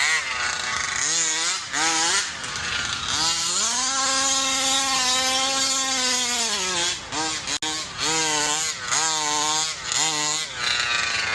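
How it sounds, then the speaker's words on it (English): A stock engine runs during tuning, revving up to a steady high-pitched hold for a few seconds before dropping back and being blipped repeatedly; loud and close with no voices. "This is just a stock motor."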